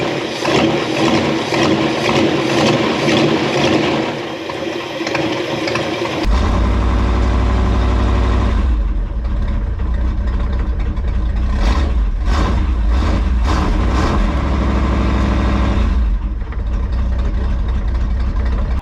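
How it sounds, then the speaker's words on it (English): A Buick Electra 225 with a leaking exhaust, parked since 1982, idles smoothly with a steady low rumble. Its loud, even drone runs alone, with no voices. "that thing is smooth, dead smooth sitting there idling"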